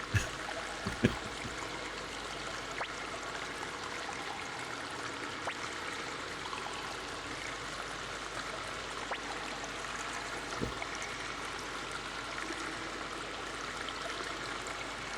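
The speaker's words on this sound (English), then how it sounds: "they really went all in on that water noise" Steady, continuous babble of a flowing stream runs through a Suikoden video game scene, an even rushing trickle held for the full stretch with a few faint soft clicks and no talk.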